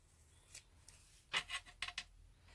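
Scissors cutting paper down to size for a vintage decoupage box: a few quiet, close snips in quick succession, with light rustling between them.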